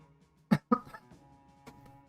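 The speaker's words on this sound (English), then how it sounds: "Had to cough, so good timing." A couple of sharp, close coughs in quick succession, followed by a quieter cough a moment later, against near silence.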